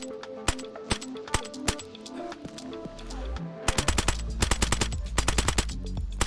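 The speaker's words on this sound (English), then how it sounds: "it also fires in semi-automatic and fully automatic" Automatic gunfire from a new AK-variant rifle in the video game DayZ, with rapid bursts of sharp shots in quick rhythm that grow denser and heavier in the second half, loud and close with no talking.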